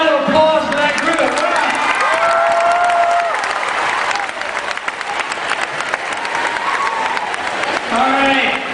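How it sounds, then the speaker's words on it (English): A crowd at a school rally claps and applauds steadily for several seconds, with some cheering mixed in, under music. "Let's have a round of applause for that group."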